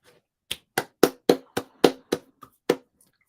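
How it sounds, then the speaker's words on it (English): One person claps their hands slowly, about eight distinct, close claps in a steady rhythm with quiet gaps, no talk. "Why am I clapping, Ray?"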